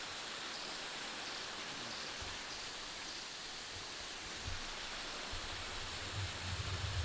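Steady, full-bodied rush of a waterfall, continuous and even for the whole stretch with low rumbling gusts near the end, no voices over it.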